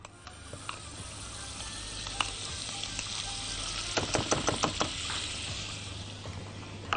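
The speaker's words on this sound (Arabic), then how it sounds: "وعلى طول أول ما تسيح الزبدة هننزل لها الدقيق" Butter sizzling and frying in a pot as a roux for béchamel begins, a steady close crackle with a cluster of sharper pops and clicks midway, no voices.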